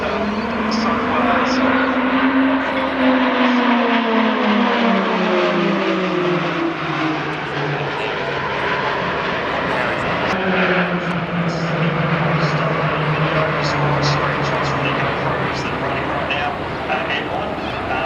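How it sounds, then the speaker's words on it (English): An iconic RAAF aircraft passes low over the Australian Grand Prix in 2023. Its loud, steady engine drone rises and then falls in pitch as it flies overhead, with crowd noise and voices beneath it. "we have celebrated a bit of history here in the last few minutes with an iconic plane"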